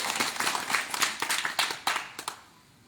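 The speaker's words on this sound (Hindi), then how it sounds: "एक बार पुनः जोरदार तालियां बजा करके मुझे आदेश करें।" An audience at a Hindi poetry recital (kavi sammelan) claps loudly, a dense run of applause with sharp individual claps standing out before it thins and fades away.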